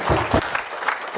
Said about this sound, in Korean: 강지원 명예총장님을 여러분 앞에 소개하는 뜨거운 박수를 호명합니다